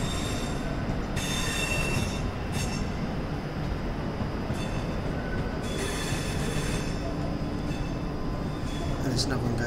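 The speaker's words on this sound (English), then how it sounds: "That train's off on its way out." A simulated train in Train Sim World 3 pulls out of a Birmingham Cross City Line station, with a steady rumble of wheels and carriages and occasional wheel squeal throughout, loud and close, while someone talks over it.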